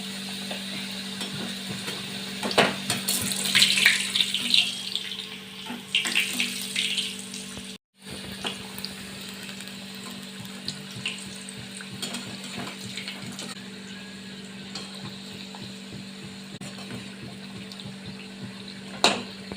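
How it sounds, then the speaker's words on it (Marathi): Sesame-filled karanji pastries deep-frying in hot oil for Diwali faral, a steady close bubbling sizzle that swells and churns for the first few seconds, cuts out briefly, then carries on as a constant crackle with small stirring clinks. "तोपर्यंत ह्या तळून घेऊया तयार झालेले"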